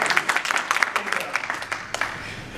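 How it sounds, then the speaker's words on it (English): Scattered clapping from a meetup audience in a venue: uneven, fairly sparse hand claps that rise and fade over a couple of seconds, with faint murmuring underneath. "Yes, you can clap."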